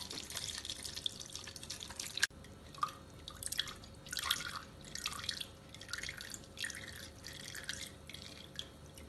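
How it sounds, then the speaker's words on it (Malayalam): Homemade pineapple wine pours and drips through a strainer into a bowl, with steady close trickling and irregular splashy drips under a soft background hiss. "ഒരു ബൗളിന്റെ മേലെ അരിപ്പ വെച്ച് അതിലേക്ക് ഒഴിച്ചു കൊടുക്കാം."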